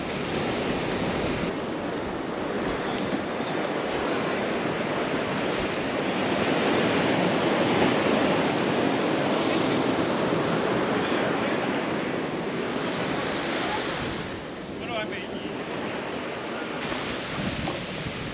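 Surf rolling onto an empty West African beach, a loud continuous wash of breaking waves with wind buffeting the microphone, no voices.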